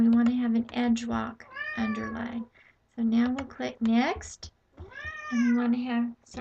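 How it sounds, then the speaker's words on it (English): A pet cat meows repeatedly nearby, several drawn-out tonal cries interleaved with someone talking calmly indoors about embroidery digitizing software. "that's my cat."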